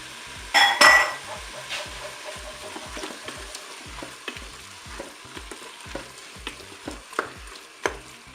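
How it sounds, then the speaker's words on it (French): Red kidney beans stirred into chili con carne in a Cookeo pot: a brief clatter of pouring at the start, then soft scraping and stirring with a faint sizzle underneath. "Donc maintenant je vais rajouter les haricots rouges"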